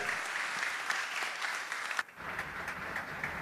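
Audience gives strong applause for two guests, Dona Elia Isenia and Dom Winnie Paulo, at a talk show; a steady wash of clapping that dips briefly midway and then carries on, no voices over it.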